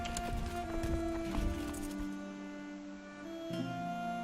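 Horses clip-clop along at a steady trot in the strategy game Crusader Kings II, hooves tapping over a sustained droning music bed, with a brief whinny-like tone near the start.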